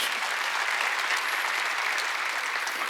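A church congregation at a Wednesday worship service breaks into steady, dense clapping that fills the whole moment without a break.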